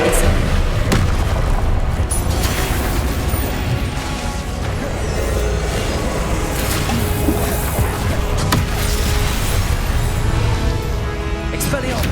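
Fire spell Incendio cast repeatedly during Hogwarts Legacy combat, a dense run of booming magical blasts and crashes stacked over continuous game music and effects, with a voice talking throughout.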